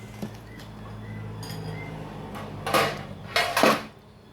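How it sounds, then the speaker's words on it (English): A plastic bowl being fetched and handled at home, with a few soft knocks early on and then louder clattering and scraping bursts toward the end, close by and with no talking. "let's get my bowl"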